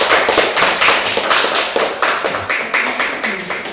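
Congregation at a Korean church mission lecture clapping together in rapid, loud, rhythmic bursts, close and steady, with no talk over it.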